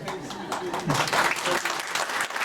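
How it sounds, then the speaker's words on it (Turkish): An audience at a Trabzon Hayrat Nuhoğlu foundation gathering applauds with a short, moderate burst of clapping, while people talk over it throughout. "Dolayısıyla en çok alkışı aldık."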